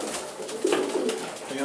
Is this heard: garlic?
no